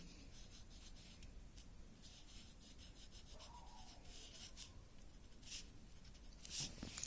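Writing on paper in a first-grade English practice book, a soft, steady scratching that continues quietly and alone for several seconds, with a few slightly louder strokes near the end.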